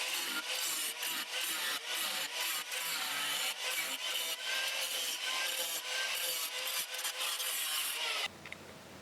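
Car body sheet metal on a Citroën Traction is cut with a rough, rhythmic rasping and scraping that runs steadily for about eight seconds at close range before stopping abruptly.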